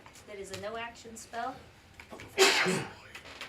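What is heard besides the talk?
a sneeze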